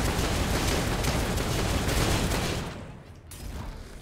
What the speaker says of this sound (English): So many cannons!